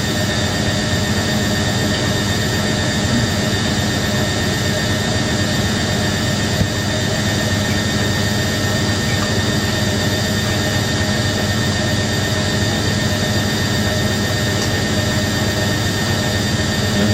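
A Hoover A3060 Electronic 1100 washing machine on a spin cycle gives off a loud, constant whirring hum with a steady broadband roar, unchanging and close throughout, with no voices.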